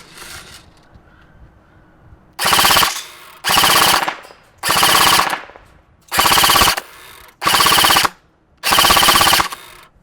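Cybergun FN Herstal M249 Para Featherweight airsoft gun heard at the gearbox, firing six loud sustained full-auto bursts of roughly half a second each, separated by short silences, close and alone.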